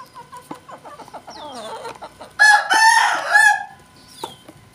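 A young kampung rooster, still learning to crow, gives a rough, breaking crow after a run of soft clucks, loud and close, then a short call near the end.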